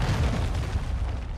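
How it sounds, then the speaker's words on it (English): A cruise missile explosion in GTA V FiveM Warzone: a loud, sustained low rumbling boom that fills the whole moment without letup. "Hostile cruise missile incoming"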